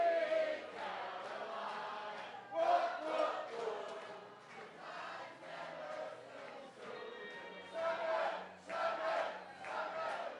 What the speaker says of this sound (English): make some noise, cheer for Team Seattle